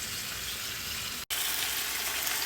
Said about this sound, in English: The chicken is crisping up